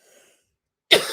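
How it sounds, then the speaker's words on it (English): A single sharp cough bursts out near the end, close and fairly loud, after a moment of near silence. "And I start coughing again."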